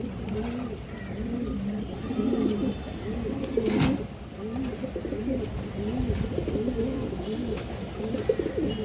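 Pigeons at a dealer's coop coo over and over, close and full, in soft rolling murmurs that overlap into a steady, continuous chorus with faint background noise.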